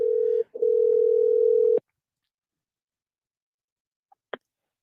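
Phone dial tone after a caller hangs up: a steady electronic hum with one short break, then silence and a couple of faint clicks.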